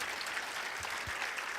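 Church congregation clapping together, a dense, even burst of applause filling the room for a brief moment.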